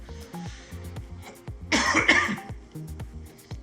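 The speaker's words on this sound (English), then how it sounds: "I've just gone away from the microphone there just to have a little cough" A person with a cold coughs away from the microphone while background game music with a steady beat plays, a short harsh burst of coughing and throat clearing in the middle.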